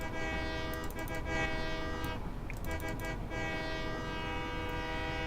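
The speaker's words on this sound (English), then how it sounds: "I just like honking the train horns." A train horn in Satisfactory sounds a sustained, harmonically rich blare, briefly dipping and then sounding again, over the low rumble of the moving train.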